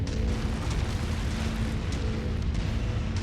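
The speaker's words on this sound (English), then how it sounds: "I'm hearing explosions inside the base" Explosions go off inside a base during MechWarrior 5 combat, heard as a dense, steady low rumble of blasts and booms throughout, with no clear separate hits standing out.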